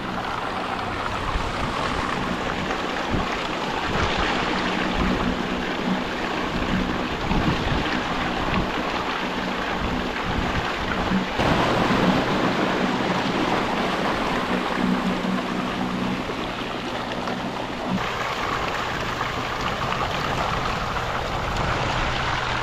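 Small boat pushed along by a Bixpy N-3 electric outboard motor, heard as a steady, continuous wash of water and wind noise at the microphone throughout, with no talking.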